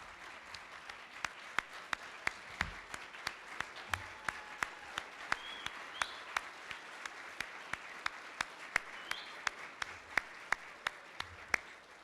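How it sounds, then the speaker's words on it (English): A hall audience gives a standing round of applause for a student presentation at a ceremony with the Minister of Education, Science and Culture. The soft, distant wash of clapping is punctuated by a steady stream of sharper individual claps. "I want each and every one of you standing and give them a round of applause"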